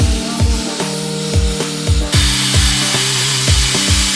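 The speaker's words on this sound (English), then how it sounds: "We just cut the bracket as close as we could." A power tool cuts old brackets off a Jeep LJ frame during a GenRight suspension install, making a close, rhythmic series of whining strokes that repeat about every half second, with no talking.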